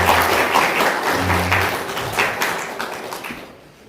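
A church congregation claps in thanks for the ministers at an elder ordination ceremony in Jeju, steady applause that fades away near the end.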